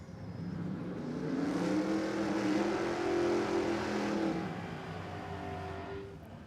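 Drag racing cars at a Queensland drag racing championship run down the track, a loud engine roar that swells and fades over several seconds.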